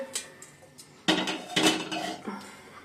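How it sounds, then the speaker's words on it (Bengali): A heavy metal wok clanks down onto a stove, followed by a few more clattering knocks of cookware, close by. "চলো কড়াইটা বসাবো"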